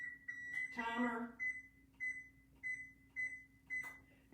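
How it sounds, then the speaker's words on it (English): Kitchen oven timer being set, giving a string of short, faint, evenly spaced beeps. A brief voice cuts in near the start. "I'm going to put those in the oven, set my timer"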